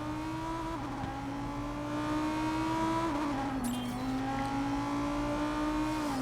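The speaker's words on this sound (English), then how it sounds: "Let's just spin around and take off just because our car's tough like that." A racing game car engine drones steadily with pitch shifts as it spins around and pulls away, a sustained mechanical whine with brief dips and rises, loud and alone without talk.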